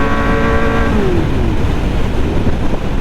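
A 948cc motorcycle engine drones steadily while riding on the road, loud and continuous, with a brief tonal whine fading early under broadband rumble and wind.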